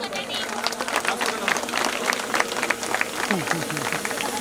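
Audience at a high school reunion applauding in a burst of scattered claps, mixed with nearby chatter and voices speaking over the clapping.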